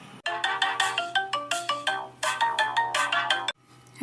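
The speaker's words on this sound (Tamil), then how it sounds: "நான் நவ்யாளுக்கு அம்மாக்கு ஃபோன் போடுறேன் சார்." A phone ringtone plays during an outgoing call, a bright repeating melodic tone in quick rhythmic pulses for about three seconds before cutting off abruptly, clear and close with no voices.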